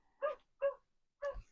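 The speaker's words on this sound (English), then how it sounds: "If you can hear the dog barking" A neighbouring dog barks three times in quick succession, fairly close and moderately loud, each bark short and sharp with brief silences between them and no talking.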